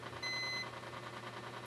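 A single short, high-pitched beep from a multimeter continuity buzzer, testing a shorted laptop motherboard, sounds once against a low, steady background hum.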